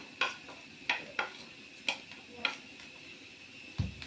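Chili, turmeric and coriander powders with fennel seeds roast in a pan, stirred with a utensil, making quiet, evenly spaced scraping taps against the pan over a faint dry sizzle.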